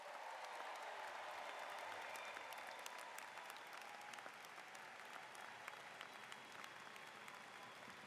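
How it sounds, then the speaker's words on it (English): Sustained, dense applause from a large graduation audience honoring the class of 2020, steady and fairly distant throughout with no speech over it. "one more round, boisterous applause for the class of"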